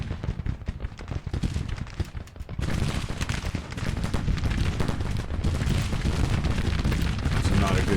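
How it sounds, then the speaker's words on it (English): Gunfire and artillery in a Grand Tactician Civil War battle, dense crackling musket volleys and booming cannon that swell louder partway through, with someone talking over them. "There's artillery right there too."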